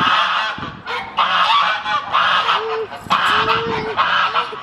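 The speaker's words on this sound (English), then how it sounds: "See, they're going quack." Geese honk loudly and repeatedly outdoors beside a hiking trail, a dense overlapping flock calling in bursts close to the listener with no talk over them.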